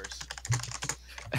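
Computer keyboard typing picked up close to the microphone, a quick run of clicky keystrokes in a short burst with faint background voice.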